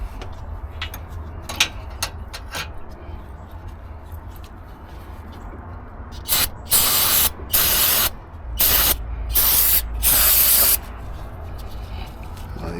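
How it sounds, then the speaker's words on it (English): Brake cleaner hisses from an aerosol can in several loud bursts over the engine area of a Thermo King reefer unit, after a stretch of faint ticking and handling noises. "Use some brake cleaner and just clean this up."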